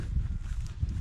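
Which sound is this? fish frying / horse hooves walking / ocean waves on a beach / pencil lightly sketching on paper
horse hooves walking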